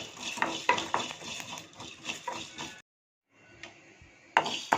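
Coriander seeds dry roasted in a pan for a Tamil fish curry spice powder: repeated scraping stirs with a rattle of seeds against metal, up close, then a short silence before the stirring starts again.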